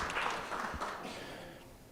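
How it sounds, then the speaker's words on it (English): An awards-show audience applauds for Sterling with a soft, diffuse patter of clapping that gradually fades away. "Have a hand for Sterling."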